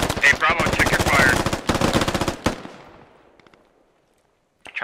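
Rapid machine gun bursts in the tactical shooter game SquadOps, loud and dense for about two and a half seconds, then tapering into a fading echo and near silence, with a brief return of noise at the very end.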